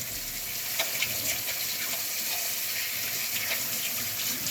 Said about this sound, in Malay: I cuci tangan ya.